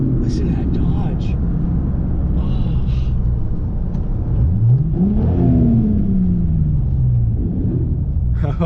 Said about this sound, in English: Listen to that Dodge.